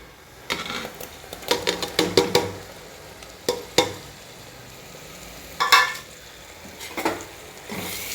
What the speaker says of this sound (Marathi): आता हे परतून घ्यायचं आहे.